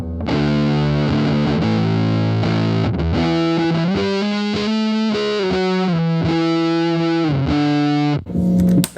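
Electric guitar played through Electro-Harmonix effects pedals on a large pedalboard, loud and continuous with a thick distorted, modulated tone, chords and sustained notes shifting over about eight seconds before a brief pause and a final burst.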